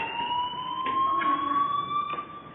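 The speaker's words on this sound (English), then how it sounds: "Hey, do you hear that fire alarm?" A steady electronic fire alarm rings throughout inside the video game Life Is Strange, a sustained high tone with faint background shifts, loud and constant with no talk.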